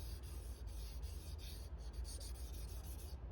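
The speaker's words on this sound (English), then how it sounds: "So I'm gonna walk that burr back and forth a few times before I do some burr removal." A Grimsmo Norseman knife edge is drawn back and forth across a sharpening stone to walk the burr, giving a steady, close rasping rub that repeats in quick strokes at low level with no voices.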